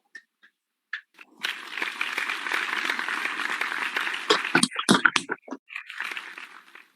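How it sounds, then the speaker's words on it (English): Applause from an audience at a journal launching event after an editor-in-chief is introduced, starting with a few scattered claps, swelling into sustained clapping, then breaking into irregular louder claps as it fades. "A big round of applause, please."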